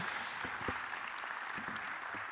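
An audience at a round-table event claps in a steady, continuous patter of moderate loudness that holds evenly throughout.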